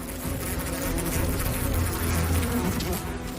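A dense, steady buzz of many honeybees droning close together as they swarm a giant hornet, loud and continuous, with no voices.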